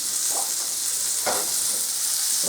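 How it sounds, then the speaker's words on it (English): Steady hiss of liver frying in a hot pan, with a few brief scraping stirs cutting through the sizzle. "I'm just flash frying the second batch of liver."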